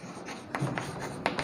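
Chalk or marker writing on a board during a physics lesson, a few faint scratchy strokes and taps close by in a quiet room.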